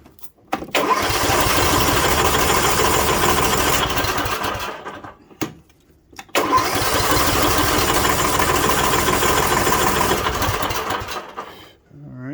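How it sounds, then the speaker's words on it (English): Kohler 5400 series 541 cc 17 hp engine on a Troy-Bilt Pony 42-inch mower runs loud and steady in two long bursts, cutting out briefly in between and fading at the end. "Looks like it's got the Kohler 5400 series, 541 cc 17 horse engine in it."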